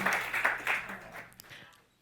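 A church congregation claps along, a quick burst of many hands that thins out and fades within about two seconds.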